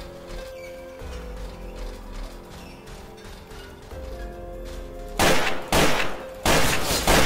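Sharp, heavy gunshot bursts in a Five Nights at Freddy's co-op game in Garry's Mod crack out near the end, loud and close, after a stretch of quieter game audio with steady music-like tones.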